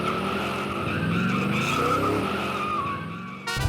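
A black car skids sideways on the road, a sustained loud tire squeal with engine roar that holds for several seconds before ending in a sharp burst.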